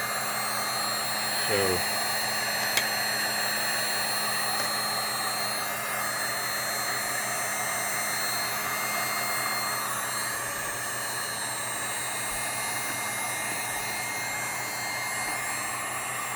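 A heat gun gives a steady, broadband whooshing roar of blowing hot air throughout, close and constant, with a brief spoken word near the start.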